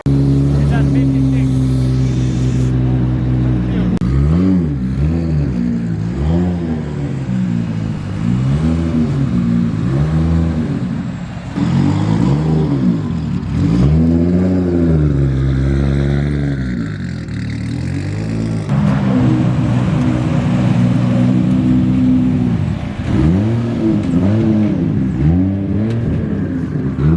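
Toyota Supra engine revving loudly and close, with repeated rising and falling throttle sweeps pulsing through the whole stretch, the engine dominating with no clear voices.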